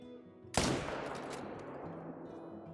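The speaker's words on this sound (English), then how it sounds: "it's hard to not take those follow-up shots" A rifle fires at bison in a hunting video game: one sharp, loud shot followed by a long decaying rumble and echo fading over a couple of seconds.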